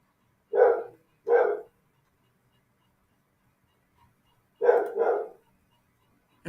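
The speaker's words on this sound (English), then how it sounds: "Please excuse my neighbor's dog in the background." A neighbor's dog barks in two pairs of sharp, moderately distant woofs separated by a few seconds of near silence.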